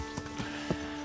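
Horse hooves clip-clop at a steady walking pace in the medieval game Kingdom Come Deliverance, a few distinct near footfalls over a low background hum.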